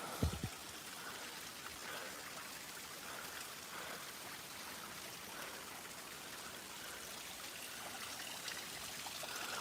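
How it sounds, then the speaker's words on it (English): A small forest waterfall pouring steadily, a broad continuous rush and splash of water that holds an even level throughout, close and without any talk. "It's not the greatest waterfall, but it's a waterfall, guys."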